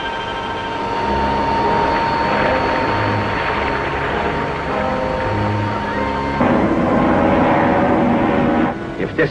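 Loud, steady drone of an airplane engine in flight, a constant throbbing hum that shifts in tone slightly near the end.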